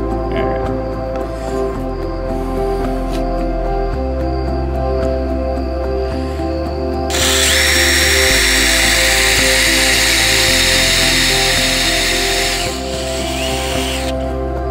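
A hand drill boring holes through knife handle scales, a loud steady high whine running for several seconds in the middle, with machine hum and lower workshop noise before and after.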